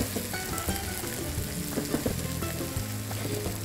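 Spring onion sizzles steadily in a frying pan, turned with a wooden spatula, a close, continuous crackle with small pops and faint scraping throughout.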